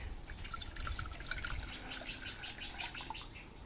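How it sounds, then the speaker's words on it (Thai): Water pours into the pot of a ZOLELE 1.6L electric multi-cooker, a steady trickling, splashing stream running for a few seconds at close range with no talk. "เอาน้ำใส่ไปหน่อย"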